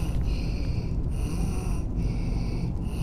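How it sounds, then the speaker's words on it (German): A creature in the Skyrim game snorts and breathes heavily in a steady low rumble, with soft repeated snuffling pulses running throughout amid faint game ambience. "Da kommt aber das Schnaufen her."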